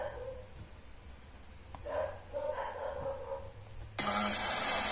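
Dogs bark somewhere in the background, faint and scattered over a few seconds amid ambient noise, followed by a sudden louder burst of noise.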